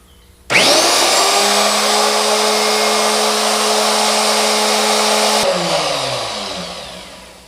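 A Ryobi R163G router switched on without soft start, leaping instantly to a loud, steady high-pitched whine that holds for several seconds, then cuts off and spins down with a falling tone.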